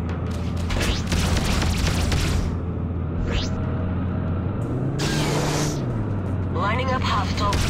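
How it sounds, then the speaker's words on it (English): Incoming missile attack in the space-combat game Freelancer, with a swelling rumble, a rushing whoosh and a blast-like boom over a steady engine drone, loud and close, with radio-style voices over the action. "Incoming missile."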